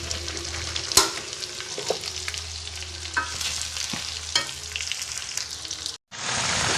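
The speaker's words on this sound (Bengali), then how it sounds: "মাংস ভাজি প্রায় হয়ে গিয়েছে।" Chicken meat fries in a wok with a continuous close sizzle, broken by a few sharp knocks and scrapes of stirring before the sound cuts off abruptly.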